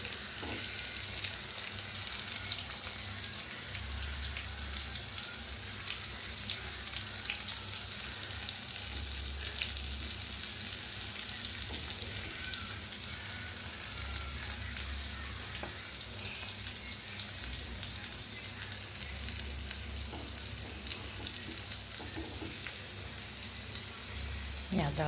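Fish sizzles steadily in hot oil in a riverside frying pan, a continuous crackling hiss that runs throughout at moderate loudness with occasional faint clinks and brief murmurs of background voices.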